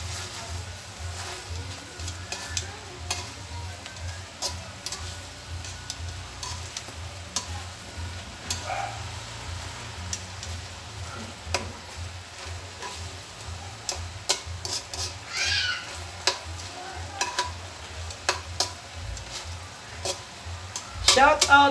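Breakfast frying in cooking oil, a low steady sizzle running throughout with scattered ticking pops and light stirring, while a voice talks over it.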